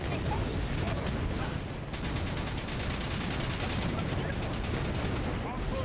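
Dense, continuous gunfire and artillery blasts fill the battle in the Battalion Wars GameCube game, a loud, unbroken barrage of rapid shots throughout.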